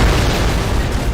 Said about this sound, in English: Birkin allows us to get jump scared by a loud explosion